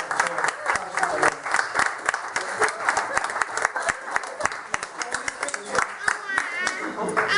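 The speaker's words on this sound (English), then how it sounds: "I think he deserves a round of applause." A crowd breaks into sustained applause at a football club's end-of-season presentation, dense clapping running steadily throughout with a few voices mixed in.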